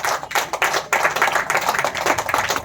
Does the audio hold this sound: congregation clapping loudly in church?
yes